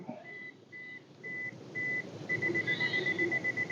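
A camera self-timer in a woodland counts down with a series of short electronic beeps, spaced evenly at first and then speeding into rapid pulses, close and clear over faint outdoor ambience.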